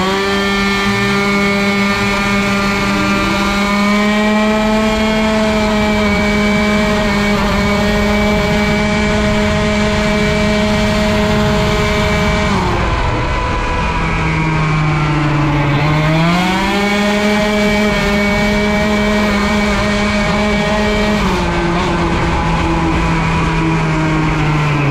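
A T6 50cc moped engine with a Giannelli exhaust screams at very high rpm under load, a loud continuous whine held steady, dipping briefly midway before climbing back up.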